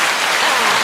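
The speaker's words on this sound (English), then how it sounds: "Well, let's give them an applause." Audience applause fills the room, a dense, steady wash of clapping from many hands at close range, sustained without a break and with no voices over it.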